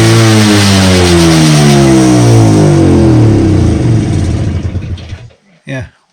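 An MZ TS125 motorcycle fitted with a Mikuni carburettor fires up after a kick-start and revs hard, a loud close two-stroke engine rising in pitch and then cutting out abruptly near the end with a brief burst after.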